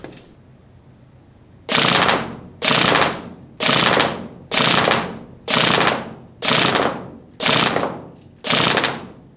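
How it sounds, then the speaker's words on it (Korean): A Tokyo Marui MP5SD6 next-generation electric airsoft gun fires eight evenly spaced three-round bursts, each a sharp, loud mechanical rattle with a quick decay, close by with no talking. "일단 헤드샷 기준으로 점사로 한번 사격을 해보겠습니다."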